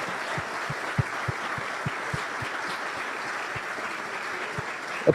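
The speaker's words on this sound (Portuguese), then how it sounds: "uma salva de palmas já" Applause from a lecture audience during an entrepreneurship talk, a steady dense patter of clapping filling the room throughout with a few sharper individual claps standing out.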